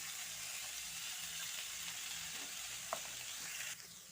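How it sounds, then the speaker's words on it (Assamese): Potatoes and elephant apple (outenga) frying with turmeric, a continuous close sizzle with faint stirring scrapes and a small clink near the end, no talk. "এইখিনি অকণমান ভাজি ল'ব লাগিব।"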